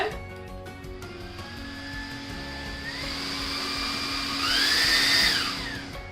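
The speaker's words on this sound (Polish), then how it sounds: "Odkurzacz się wyłącza jak tylko puścimy przycisk." A Xiaomi Mi Vacuum G9 cordless stick vacuum runs with a steady whine that climbs in pitch as its motor speeds up, growing louder toward the end before easing off, heard close and alone.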